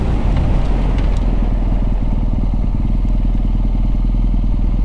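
A BMW R NineT motorcycle engine drones loud and close while riding, a steady throbbing boxer rumble with some clatter at the start, running alone without talk.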